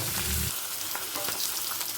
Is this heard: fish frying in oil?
yes